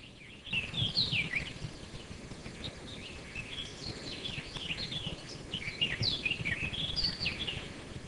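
Birds chirp and sing at a distance over a steady outdoor hum on a golf course in the Azores, with a few clear warbling phrases standing out.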